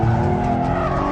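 A 2013 Hyundai Genesis Coupe slides with its tires squealing in a loud, steady skid, the engine droning beneath the sustained screech for the whole moment.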